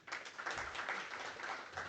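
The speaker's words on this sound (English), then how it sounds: "Another round of applause" An audience claps for the Prime Minister at the opening of a Southern African central bank governors' meeting in Swakopmund, a steady, moderately loud applause filling the hall.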